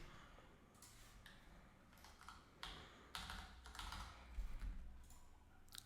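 Keys clattering on a computer keyboard in quick irregular bursts, close but fairly quiet over a low background hum, with no voice.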